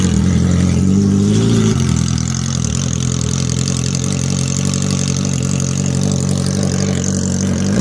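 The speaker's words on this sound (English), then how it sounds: "So now the can is off. This has got to be done. Just to see what she sounds like" A motorcycle engine idling with the exhaust silencer can removed, a loud, raw, steady close-up drone with a slightly higher rev in the first two seconds before settling, no talking.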